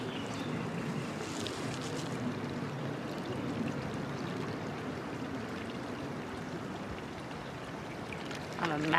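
Stream water being poured into a container outdoors makes a steady, even gush of splashing water that carries on without pause for the whole stretch.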